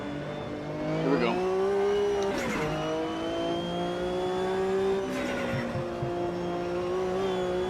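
Race car in a Class C race in Spain taking fast right-hand corners, a sustained engine drone with shifting pitch, brief tire squeal and skid bursts as it turns, loud and continuous.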